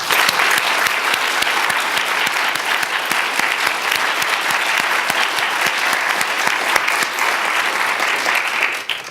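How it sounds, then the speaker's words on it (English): An audience at a Georgia Tech recognition event gives a loud, sustained round of applause, a dense wash of many hands clapping steadily throughout without a break. "applause."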